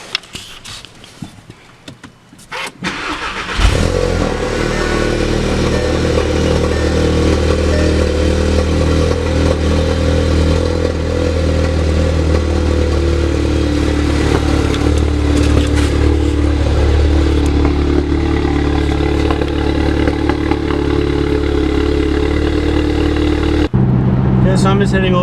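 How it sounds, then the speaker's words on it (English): A modified car fitted with a downpipe, which rattles against its heat shield, cold-starts with a loud crank and catch, then settles into a steady, loud, rumbling idle that runs unbroken to the end. "Just hop in here for a nice cold start"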